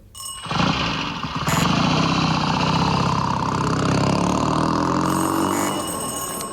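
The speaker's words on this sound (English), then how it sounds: "That's not a Land Rover. What is it, then? It's a motor bicycle." A motor bicycle engine is played as a comedy sound effect. It starts with a sharp burst, then revs loud and buzzing with a wavering pitch for several seconds, close and dominant.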